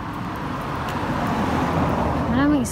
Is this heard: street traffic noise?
yes